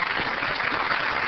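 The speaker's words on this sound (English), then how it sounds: "please let's give a round of applause for all those who participated or submitted." Applause at a city council presentation honouring students and teachers, a steady dense clapping from an audience that fills the whole short moment.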